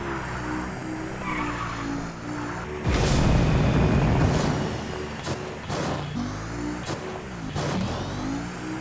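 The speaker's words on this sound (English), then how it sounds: "This car's got a lot of personality in its engine sound." A car engine in the video game Fortnite revs with tonal, changing pitch, broken by a burst of tire squeal and skidding, then more engine revs and squeals.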